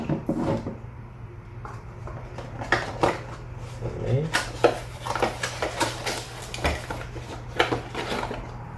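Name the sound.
clicking of plastic device parts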